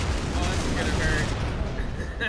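A grenade explodes at a bunker in a video game, heard as a sustained rumbling burst with crackling debris under continuous speech and background game sounds.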